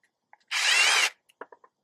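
A power drill spins out a screw from a Schlage BE365 lock plate in one short, high whirring burst of about half a second, followed by a few small clicks and taps of handling, close and otherwise quiet.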